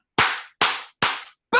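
A group claps in unison as part of a team call, three sharp, loud claps evenly spaced, then a fourth burst of sound starting at the end, with no talk.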